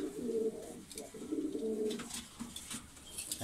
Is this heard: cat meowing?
no